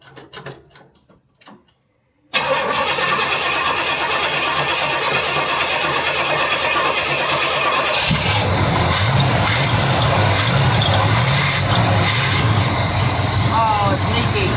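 Car with a new exhaust cranking over and catching, a few starter whirs followed by the engine firing into a loud steady idle that deepens and grows rougher partway through, with voices heard at the start.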